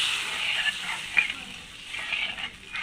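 Tel koi fish curry spice paste sizzles in hot oil as water goes in, a steady close crackling hiss with small spits and pops, while a voice talks faintly underneath.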